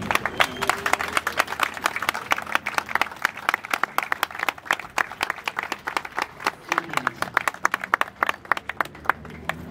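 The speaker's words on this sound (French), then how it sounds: "que nous nous levions pour applaudir l'artiste qui s'en va, pour dire bravo l'artiste." Audience applause at a funeral tribute for an artist in Congo, a steady run of sharp, dense hand claps that swells and eases over several seconds, with faint voices underneath.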